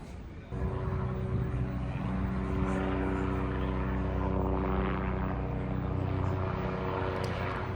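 Helicopter flying over busy New York harbor, a steady droning rotor and engine hum rising in after a quiet start and staying moderately loud.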